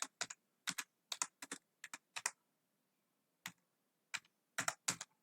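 Sparse bursts of keystrokes on a computer keyboard as a ChatGPT prompt is typed, short clicky clusters separated by pauses, close and fairly quiet, with no talking.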